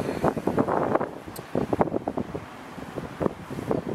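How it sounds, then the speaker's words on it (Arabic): Strong wind gusts buffet the microphone at an old coastal fortress site in Tangier above the sea, producing uneven bursts of rough rumbling noise that rise and fall in rapid pulses. "رياح قوية"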